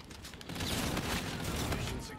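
Rapid bursts of gunfire from a first-person shooter video game, several close, loud cracks in quick succession over a busy background of game effects, with a voice talking over them.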